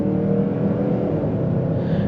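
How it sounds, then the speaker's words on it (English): A 2021 Mazda CX-9 Signature with the 2.5L engine and AWD accelerates hard, heard from inside the cabin as a loud, steady engine drone and road rumble that holds throughout without talk. "you can definitely hear the engine"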